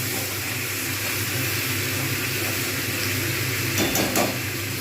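Marinated chicken for a chicken curry fries in a pan with a steady, close sizzle throughout, and a couple of brief utensil clatters come near the end.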